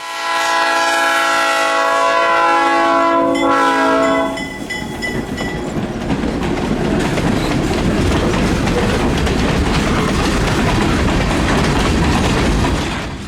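Pee Dee River train PD-19, pulled by GP16 locomotives, sounds a loud sustained horn for about four seconds, then rolls past close by with a steady roar and rhythmic rail clatter that continues to the end.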